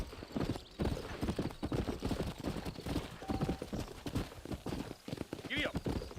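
Horse hooves clip-clop steadily on a trail in the Red Dead Redemption western game, in rhythmic near thuds with a brief whinny, while characters talk over the riding.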